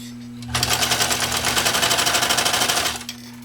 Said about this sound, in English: I took it really slow when I was sewing on that nylon webbing